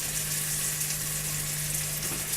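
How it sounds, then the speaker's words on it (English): A pork chop sizzles in a skillet, a steady, close crackle of frying fat that holds evenly throughout with no talking. "So now I'm going to put it in the skillet rather. Season side down."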